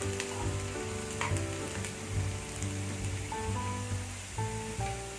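Garlic sautés in hot oil for a garlic pepper kuzhambu, a steady close sizzle and crackle with occasional stirring scrapes, heard alone.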